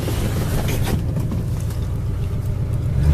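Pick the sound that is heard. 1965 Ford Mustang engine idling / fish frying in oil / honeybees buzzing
1965 Ford Mustang engine idling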